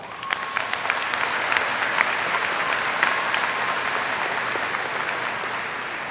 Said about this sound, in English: So maybe you should give them one more round of applause.